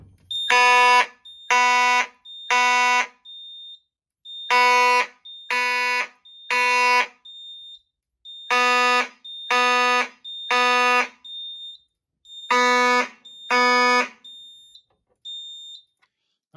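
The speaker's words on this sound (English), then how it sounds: "Now let's re-alarm with the local alarm MSI-10B." A local fire alarm panel, model MSI-10B, sounds loud repeated horn blasts in groups of three with short pauses, alongside a steady high-pitched tone, with no voices.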